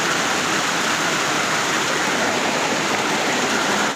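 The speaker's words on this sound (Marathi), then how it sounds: "तुम्हाला दाखवते की हा धबधबा कोसळतो त्या साईडला" A roadside waterfall cascades in a constant, dense, hissing roar that fills the whole span evenly, loud and close, with no voices over it.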